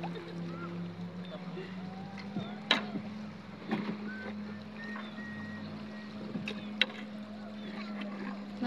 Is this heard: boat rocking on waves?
yes